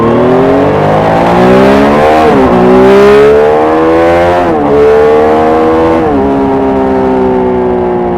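A Triumph Street Triple RS motorcycle engine runs loud and close, its pitch rising and falling through several gear changes as it accelerates along the road.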